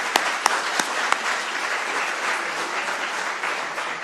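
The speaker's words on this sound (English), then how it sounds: "Another round of applause for that." A conference keynote audience claps in steady, dense applause that fills the whole stretch, with a few sharper individual claps standing out early on.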